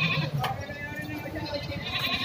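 Goats bleat at a livestock market, several nasal cries rising over a busy background of crowd murmur and shuffling, fairly close and moderately loud.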